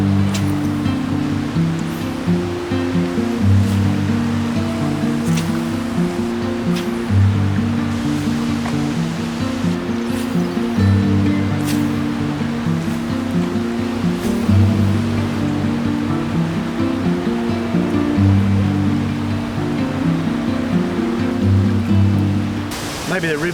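A fast-flowing river at Mitta Valley campground, Katie Peters Reserve, gives a loud, constant, close rush of water with a low rumbling undertone that holds steady throughout.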